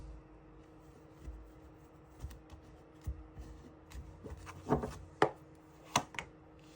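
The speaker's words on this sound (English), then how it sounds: "One more shuffle." Tarot cards are shuffled in soft, papery rustles that build into a few sharper snapping riffles and taps toward the end, close and fairly quiet.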